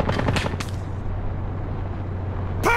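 Gunfire in the World War II strategy game Call to Arms, a quick burst of three loud close shots followed by a fading rumble and a sharp crack at the end.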